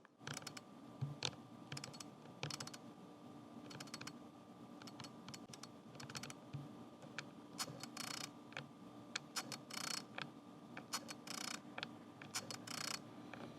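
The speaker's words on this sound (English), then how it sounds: "It does make some noise when the aperture changes and when the lens tries to autofocus." Faint mechanical clicks and soft whirring ticks from a Laowa 10mm f/2.8 camera lens changing aperture and autofocusing, scattered irregularly over a quiet background hiss.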